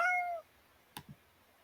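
A cat lifted out of a box gives one short, clear meow, followed by a couple of soft, brief handling bumps and then quiet.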